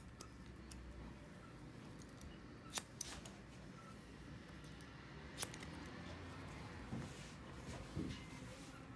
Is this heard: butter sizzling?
no